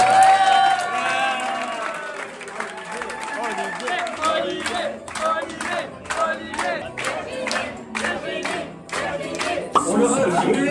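An audience claps and cheers for two contestants at the end of a long hitchhiking challenge, a crowd roar giving way to rhythmic clapping in quick regular beats, with voices shouting over it.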